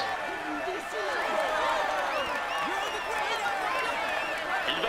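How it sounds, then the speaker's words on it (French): A Tour de France crowd applauds and cheers the white jersey winner, a steady dense roar with scattered whistles and shouts, under an announcer's voice. "vous pouvez l'applaudir bien fort"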